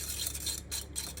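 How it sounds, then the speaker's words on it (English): A quick whisk works lemon juice and icing sugar into a drizzle, producing soft rapid clinks and scraping in a bowl, close and fairly quiet, with short gaps, over about a second with no speech. "So I'm going to give that a quick whisk."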